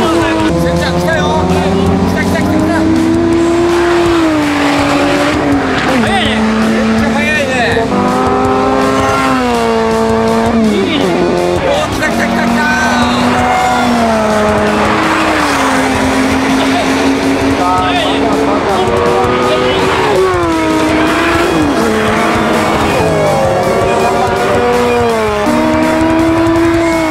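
Lotus Elise and Exige cars race hard around a circuit during a Wing Auto owners' track day event, engines revving up and down through gear changes, loud and continuous, with people talking over the noise.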